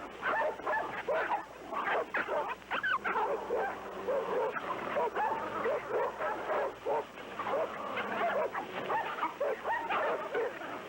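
Hungry husky sled dogs bark, yip and whimper in a noisy, near-continuous scuffle, several animals close by snarling and fighting over one another.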